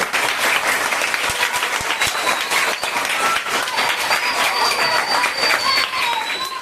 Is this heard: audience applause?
yes